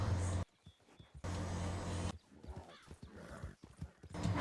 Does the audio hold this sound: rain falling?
no